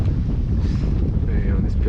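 Steady wind roars over a sailboat crossing the bay of Marseille, a continuous broadband rush buffeting the microphone with no pause throughout.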